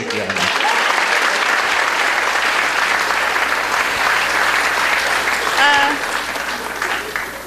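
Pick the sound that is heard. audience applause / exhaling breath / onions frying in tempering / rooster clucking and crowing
audience applause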